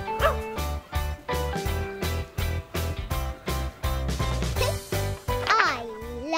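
A farm dog barks in a steady run of short, loud yaps over a bright music bed, with a voice joining near the end.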